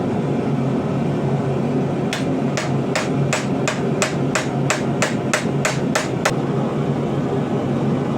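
A blacksmith drives a punch into a steel octopus sculpture, about a dozen sharp metallic hammer strikes in an even, fast rhythm, close and loud over a steady background hum.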